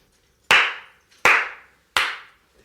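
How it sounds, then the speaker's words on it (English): Three sharp hand claps, close and loud, evenly spaced about three-quarters of a second apart, each ringing briefly in a quiet room. "here come 3 claps"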